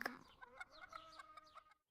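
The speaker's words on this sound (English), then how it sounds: "The rooster crowed, a sharp, clear sound that cut through the silence." A rooster crows in a short, sharp call with bright harmonic bursts, loud and close, ringing out alone in a quiet pastoral setting before fading to silence.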